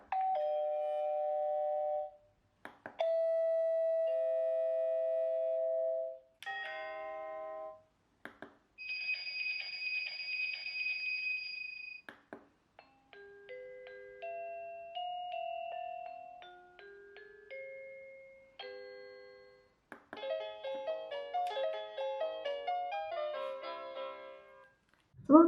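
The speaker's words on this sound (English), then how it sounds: "I just want a standard doorbell sound." A newly installed household doorbell plays through a series of different electronic chime tones one after another, some short dings and some long melodic jingles, clear and close with brief gaps between them.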